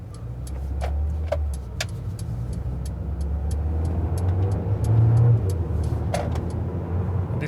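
A 2019 Mercedes B200 AMG with the 200 petrol engine accelerates, a steady low engine drone and road rumble from inside the cabin, swelling slightly mid-run, with faint scattered clicks above.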